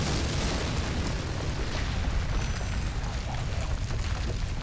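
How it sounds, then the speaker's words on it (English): A loud, sustained explosive roar with deep rumbling and crackling bursts from Combustion Man in Avatar: The Last Airbender, filling the whole clip without pause. "the explosion erupted only a few inches in front of his face."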